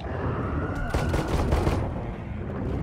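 Gunfire in the video game Nether, a dense rattle of shots layered over constant noisy game ambience, moderately loud, with no clear talk over it.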